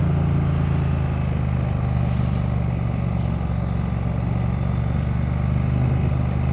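A Triumph Speed Twin 900 motorcycle engine drones steadily and loudly while riding in a low gear on a country road, with a constant low rumble and wind noise and no pauses.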